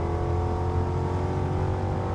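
Ford Mustang GT V8 engine pulling hard under acceleration, a loud, steady, close-up rumble with strong low harmonics that holds for the whole stretch, no voices over it.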